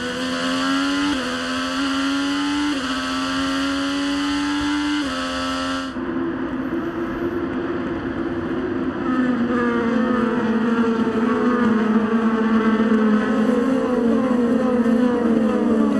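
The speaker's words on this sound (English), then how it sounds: "Alexander Rossi will begin to accelerate. We'll come to a restart and a green flag." IndyCar race cars accelerating at a restart on the Detroit Grand Prix street circuit, a loud sustained engine scream rising in pitch, shifting once, then droning on with several cars overlapping.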